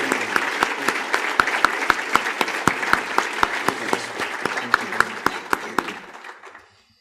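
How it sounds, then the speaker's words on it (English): Audience applause for a post-election panel at an Eggs and Issues event, with steady crowd clapping punctuated by a few sharp, loud individual claps, sustained for several seconds before fading out at the end. "Can we have a round of applause for our panelists, please?"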